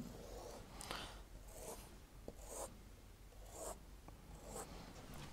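A pen drawing a line on paper, with several short scratchy strokes in a soft, close, rhythmic series, no voices.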